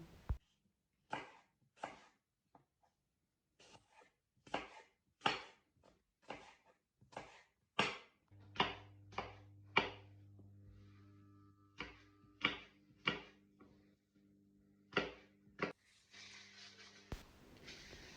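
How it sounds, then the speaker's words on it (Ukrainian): A knife cutting apples into strips on a board in a steady series of crisp, close cuts, about a dozen strokes with short pauses, a faint hum behind. "і нарізаю полосками."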